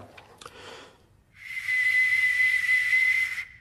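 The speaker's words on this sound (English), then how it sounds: "although it's so old and it's made of bronze, it'll probably still whistle quite well" After a brief rustle, an ancient bronze whistling arrowhead gives a sharp, piercing whistle that rises and holds for about two seconds with airy hiss around it, then cuts off.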